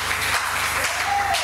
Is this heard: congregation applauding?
yes